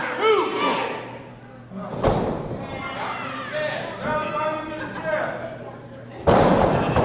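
In a televised championship wrestling match, a wrestler crashes to the mat with two heavy, booming thuds several seconds apart, under a commentator talking over the crowd.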